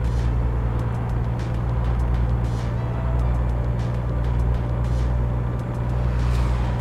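Steady low diesel truck engine drone from American Truck Simulator, constant and fairly loud throughout with a continuous rumble and no talking.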